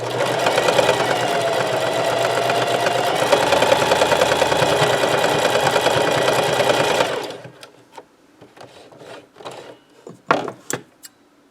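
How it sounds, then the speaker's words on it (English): A sewing machine runs a long continuous row of stitching on a thermal camo shirt for about seven seconds, then stops, leaving quieter handling clicks and fabric rustles. "And I decided to do a 3rd row of stitching"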